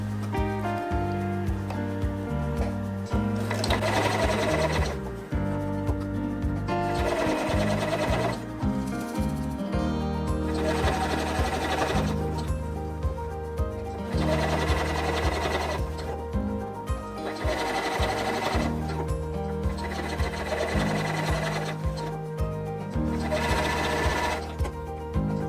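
A sewing machine stitching a baker boy cap runs steadily up close in several long bursts, its rhythmic mechanical whir broken by brief pauses between seams, with no voices.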